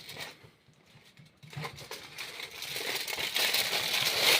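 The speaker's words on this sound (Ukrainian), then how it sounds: "накриваємо хлібом, завертаємо у фольгу." Crinkly aluminium foil folded around a sausage-and-bread sandwich, close and fairly quiet at first, then a steady run of rustling and crackling that grows denser and louder toward the end.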